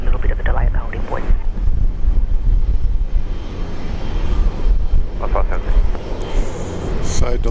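A Dash 8 turboprop departs Brisbane International Airport during a severe storm, its engine roar steady and fairly loud under wind noise, with someone talking over it throughout.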